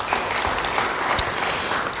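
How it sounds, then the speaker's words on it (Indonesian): Church congregation claps during a sermon, a moderate, fairly uniform patter of many hands with one sharper clap standing out briefly. "Yang mau beri tepuk tangan bagi dia."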